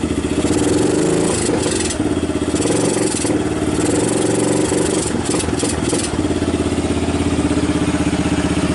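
A 1990 Kawasaki Bayou 220 junkyard ATV engine runs close by, a loud, steady single-cylinder chug with slight variations in revs throughout and no voices over it.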